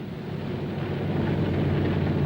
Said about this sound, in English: The sound of the engines warming up starts before dawn, echoing back from the mountains that flank the field.